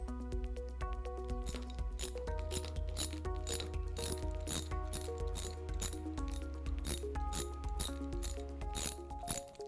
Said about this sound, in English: Next, you can reinstall the bolts.